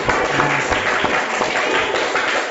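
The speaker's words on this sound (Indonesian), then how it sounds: "Tepuk tangan, silakan." Applause from a class of fourth-grade primary school pupils after a group presentation in a classroom lesson. It sounds as a dense, steady wash of clapping that lasts throughout, with faint voices mixed in.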